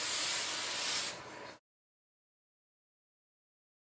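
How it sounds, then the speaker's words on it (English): A single steady hiss of hair spray lasting about a second and a half, close and fairly loud, then silence. "then I just kind of spray my hair all around."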